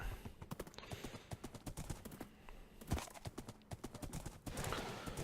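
Steady clip-clop of horse hooves trotting along in the video game Minecraft modpack GregTech New Horizons, rhythmic and close, with a faint bit of background noise.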